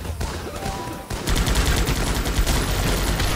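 Dense, loud battlefield gunfire from the top-down tactical shooter Guns Up: a short burst, a brief lull, then sustained overlapping rifle and machine-gun fire for the final two seconds.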